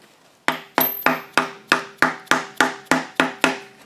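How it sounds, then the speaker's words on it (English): A mallet strikes a knife wedged into the seam of the lower intake manifold on a 2009 Audi S5 V8: about ten sharp, evenly spaced metallic taps, close and loud, with no talking. "So I used my knife and the mallet."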